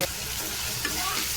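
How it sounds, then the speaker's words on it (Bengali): Shrimp and onion fry in a pan for a lattice-vine curry, a steady close sizzle with faint stirring scrapes running throughout the short stretch. "পেঁয়াজের সাথে চিংড়ি মাছটা একটু ভাজা ভাজা করে নিব।"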